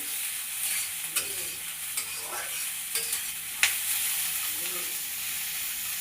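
Dosa ingredients stirred together in a hot pan, a steady sizzle with a few sharp scrapes of the spoon against the metal, close and continuous with no talking.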